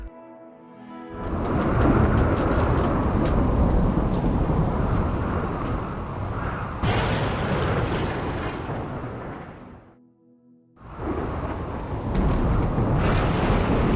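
Thunder in the Rimworld video game rolls as long, loud, deep rumbles during a stormy day, with one heavy roar fading into a quieter gap before another rumble builds again, and no voices.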